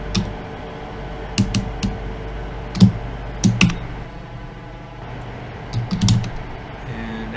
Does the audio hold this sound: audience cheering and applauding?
no